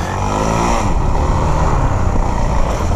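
A motorcycle engine runs loud and steady under a moving rider, with a continuous droning roar and some rising revs, close by and with no talk over it.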